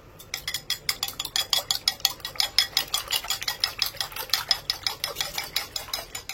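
Rapid rhythmic whisking of a spiced mixture seasoned with salt and roasted cumin powder, a steady run of sharp close clicks and scrapes against the bowl for several seconds, with no talking.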